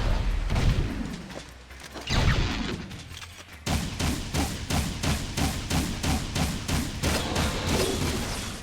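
Rapid bursts of blaster fire from the Jak II game, starting with a few scattered shots and then settling into a steady, regular rhythm of loud, evenly spaced pulses over a low rumble.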